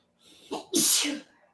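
A single person sneezes up close: a short sharp intake of breath followed by a loud, explosive burst.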